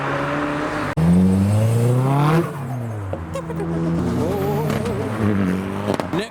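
A Hyundai i30N with bonnet vents pulls away from a car meet, its engine revving loudly and rising in pitch through the gears, a strong near sweep that settles into a steady drone with brief voices behind.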